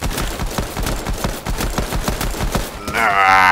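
Gunshots in Fortnite, a rapid, evenly spaced run of loud shots firing like automatic weapon fire, ending in a brighter burst of effect noise.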